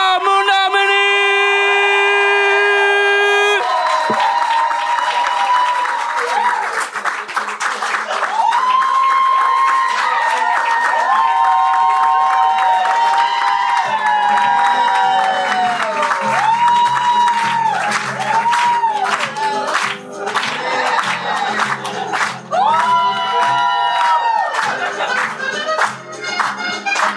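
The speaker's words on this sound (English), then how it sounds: "Let's keep the applause go." A comedy club audience in Toronto cheers and applauds the headliner, with whoops and shouts rising over loud, steady music that runs throughout.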